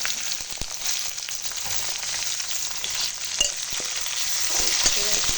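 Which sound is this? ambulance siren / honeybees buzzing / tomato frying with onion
tomato frying with onion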